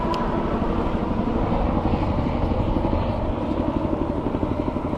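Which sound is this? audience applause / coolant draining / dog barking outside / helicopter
helicopter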